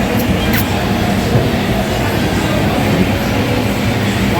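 Manila LRT light rail train running along the Recto area bridgeway, a loud continuous rumble with rail clatter that stays steady and close throughout.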